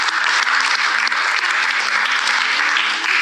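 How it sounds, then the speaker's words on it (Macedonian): Studio audience on a television game show breaking into loud, dense applause, a steady wall of clapping held at full strength for a few seconds with no talking over it. "аплауз"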